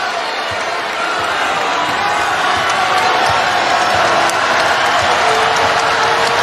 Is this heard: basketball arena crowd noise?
yes